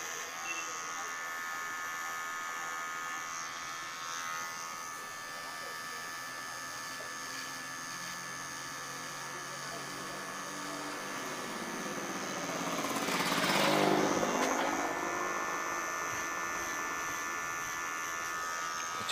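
An electric hair clipper buzzes steadily while trimming a men's skin fade V haircut, a close, continuous whine that swells louder for a few seconds near the end before easing back.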